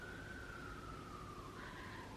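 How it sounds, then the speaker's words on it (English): A siren tone sweeps slowly downward as an emergency vehicle passes at a distance in New York City, steady over a low rumbling background. "please wait for the sirens to pass"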